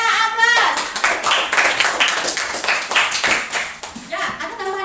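A class of children claps together, a dense burst of hand clapping that runs for several seconds, close and loud, with a teacher's voice heard briefly at the start and end.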